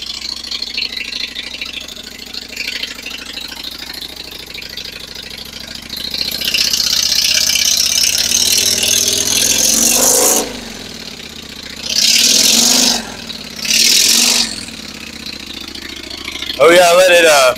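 A motorcycle engine idles and warms up with a low steady rumble, then rises into a louder rough running with short bursts of higher revving and rattle. Voices talk over it near the end.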